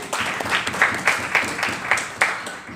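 Audience applause at a Netsurf Super 30 programme event in Raipur, a steady crowd clapping with rhythmic louder bursts, fairly close, with a faint voice underneath.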